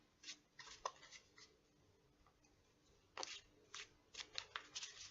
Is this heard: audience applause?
no